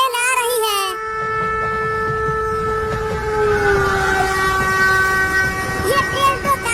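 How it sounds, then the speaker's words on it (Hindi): A train pulls in, its loud multi-tone horn blaring steadily over the rumbling clatter of railcars, sustained and close throughout. "आ गई ट्रेन, आ गई ट्रेन, हाँ? आ गई ट्रेन, आ गई ट्रेन।"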